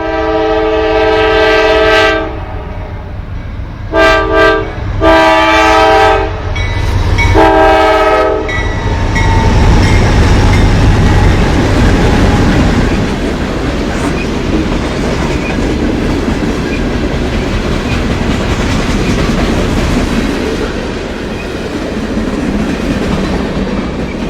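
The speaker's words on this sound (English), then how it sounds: "Train 175 approaches the restored former Pennsylvania Railroad passenger station." Norfolk Southern freight train 175 passes a restored former Pennsylvania Railroad station in Ohio, sounding several loud horn blasts up close before a long rumbling roar of wagons rolling by.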